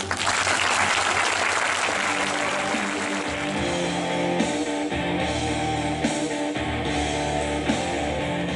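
Loud audience applause at a stage hypnosis show, a dense burst of clapping that thins slightly while music with sustained tones plays underneath.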